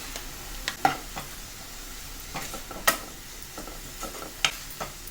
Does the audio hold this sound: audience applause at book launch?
no